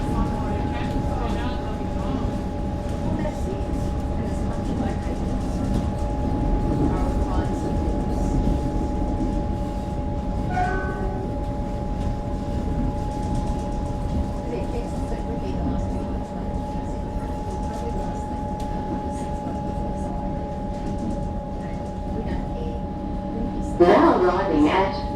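Interior of an EDI Comeng electric suburban train running, a steady rumbling drone with a constant motor whine throughout, close and even, with a brief squeal near the end.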